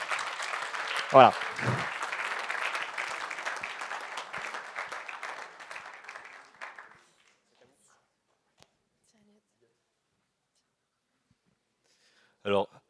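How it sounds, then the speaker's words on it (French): Audience applause at a student award ceremony on a campus in Angers, broad clapping spread through the room under a short spoken word, fading out after several seconds and leaving near silence. "les étudiants, vous pouvez venir sous un tonnerre d'applaudissements"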